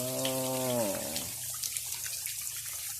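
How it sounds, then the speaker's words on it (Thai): Water runs into a cement catfish pond with a soft, steady trickling flow, faint and close, after a brief sustained vocal tone at the start. "น้ำมาแล้วน้ำมาแล้ว"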